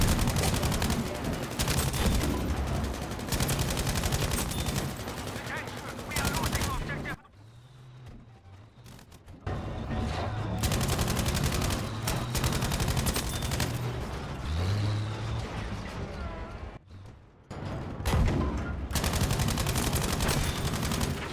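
Battlefield V gunfire from the left during tank combat, rapid bursts of shots and rattling fire that drop out briefly and then resume, loud and dense throughout.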